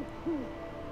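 A single owl hoot sounds once in the video game Never Alone, a short low call over a quiet, windy backdrop.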